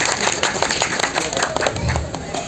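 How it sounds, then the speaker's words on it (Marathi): An audience at a Bhim Jayanti night honour ceremony claps loudly, dense continuous applause from a crowd with speech mixed over it. "मंडळी, जोरदार टाळ्या वाजवा."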